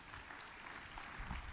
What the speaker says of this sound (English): I want to give a great round of applause for the great Bobby Bones.